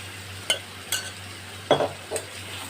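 Soybeans coated in a yogurt spice mix are sautéed in a pan, with a quiet background sizzle broken by four distinct scrapes and clinks of stirring.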